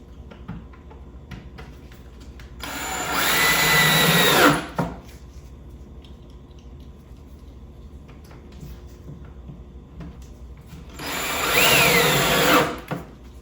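Power drill driving screws into a wooden swarm trap box, two bursts of a few seconds each separated by a quiet pause, loud and close.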